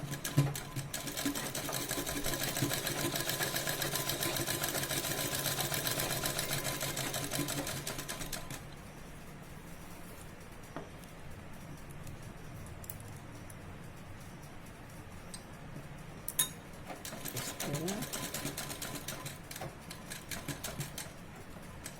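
Domestic sewing machine stitching a seam on an A-line nighty, a rapid close whirring run for about eight seconds, then quieter handling, and a second short burst of stitching near the end.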